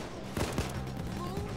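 Gunfire in a Nintendo Switch video game cracks out in a couple of sharp bursts over a dense, steady game soundscape, with faint voices in the background.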